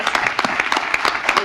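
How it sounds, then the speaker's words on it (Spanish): Short burst of audience applause in a conference hall after a talk by the vice president of Ecuador's National Assembly, a quick cluster of close claps with no voices. "Le damos nuevamente un merecido aplauso."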